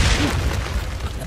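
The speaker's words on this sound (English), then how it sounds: "The pipe bomb missed him." A pipe bomb explodes in the video game Days Gone, a loud, sustained, broadband roar of blast and rumble filling the whole moment without any pause.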